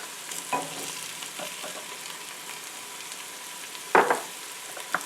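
Tender onions and chopped garlic sauté in a soup pot, making a soft continuous sizzle broken by a few sharp stirring clatters near the start and end.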